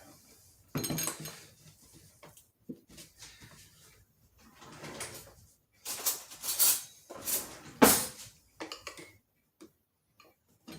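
Clicks, taps and plastic clatter as a lid is worked off an olive oil container while making handmade soap, in irregular close bursts with pauses between.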